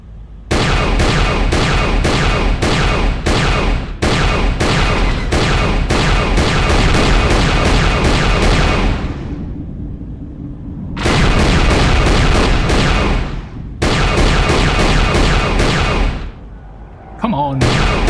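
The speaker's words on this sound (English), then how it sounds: "We can help by shooting down those ships with the turrets." Heavy turret cannon fire shooting down ships in Knights of the Old Republic II, long loud sustained barrages of rapid rhythmic shots broken by brief pauses, with a deep rumble in the gaps.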